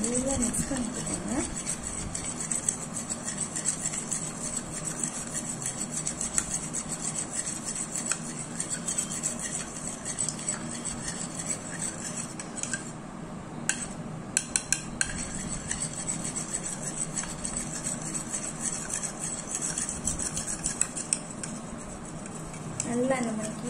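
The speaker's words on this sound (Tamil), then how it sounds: "நல்லா தயிரையும் முட்டையும் நம்ம வந்து நல்லா மிக்ஸ் பண்ணிக்கோங்க" A spoon steadily mixes curd and egg in a bowl, with continuous close scraping and clinking against the sides. Someone talks over it now and then.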